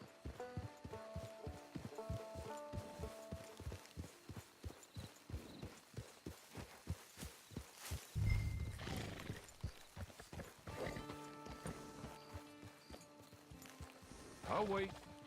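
Horse hooves clip-clop in Red Dead Redemption 2, with a steady, evenly spaced stream of close hoofbeats that briefly break up midway, and a horse whinny over the footfalls near the end.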